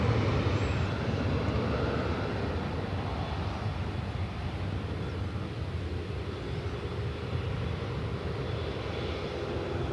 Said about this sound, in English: Singapore Flight 11 heading back to Tokyo Rita, 777-300ER. Will be the next heavy takeoff on 24 right.